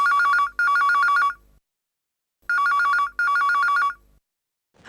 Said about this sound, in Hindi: टेलीफोन कहाँ है?